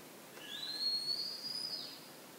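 A single clean whistling tone glides up, holds steady at a high pitch for more than a second, then drops away, clear and alone over a quiet background.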